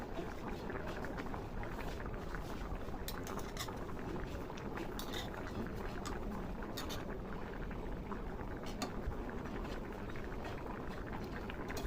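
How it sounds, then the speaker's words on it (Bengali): Potato curry broth for an egg dish at a rolling boil in a pan, with dense continuous bubbling and a roar that stays loud and steady throughout, no voices. "দেখুন বন্ধুরা, ঝোলটা কিন্তু ফুটে গেছে।"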